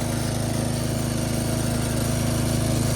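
A Craftsman 13.5 HP rear-engine riding mower with a single-cylinder Briggs & Stratton engine runs at a steady, close, loud chug, its even thumping pulse carrying on without a break.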